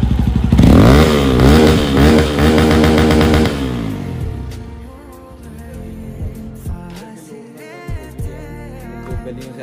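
A Hero Xpulse motorcycle engine revs loudly through its exhaust for about four seconds, rising and falling in pitch, then drops to a quieter idle with a few faint clicks.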